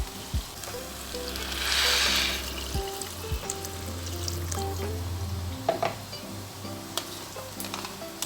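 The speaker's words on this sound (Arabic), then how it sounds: "هضيف له ميه عشان اسلقه" Water poured onto sautéed lentils in a pot for koshari makes a rushing pour that swells for about two seconds over light sizzling, then settles into a quieter simmer beneath soft music.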